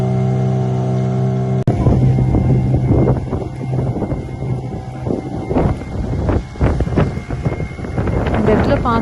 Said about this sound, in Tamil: இந்த இடத்துல பார்த்தீங்கன்னா காற்றும் ரொம்ப அதிகமாக இருக்குது